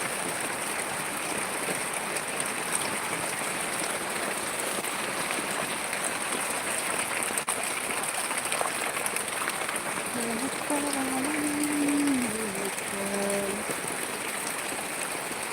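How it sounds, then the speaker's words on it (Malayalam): Heavy rain pours down steadily over a flooded garden, a dense even hiss close by, while a person speaks under the downpour. "കനത്ത മഴ വീണ്ടും പെയ്യുകയാണ്"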